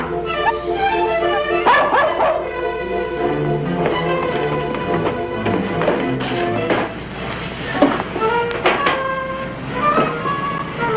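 A dog barks, yips and whimpers repeatedly at close range in an alley scene from an old crime drama, with excited yelps between short whines and a few taps in the background.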